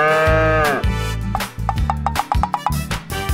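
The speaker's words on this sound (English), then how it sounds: "Happy cow." A cartoon cow moos once in a long, loud, drawn-out call, followed by bouncy musical notes and rhythmic thumps with no speech.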